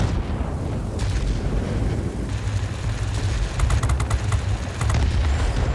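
Heavy booming aircraft cannon fire in the video game World of Warplanes 2.0 rumbles continuously with rapid bursts of cracking shots layered on top, loud and dense, like a chaotic battle.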